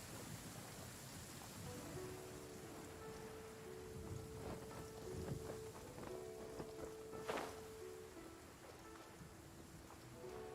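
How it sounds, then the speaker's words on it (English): Steady rain pours down in the Genshin Impact game world, a soft continuous hiss with faint footsteps and patter beneath it, no voices. "Taking a stroll in the middle of a downpour certainly rouses the spirit."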